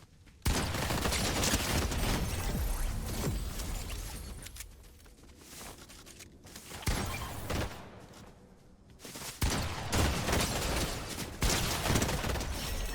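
Burst rifle gunfire rattles in quick clusters of loud shots during a Fortnite match, with brief quieter lulls between the flurries.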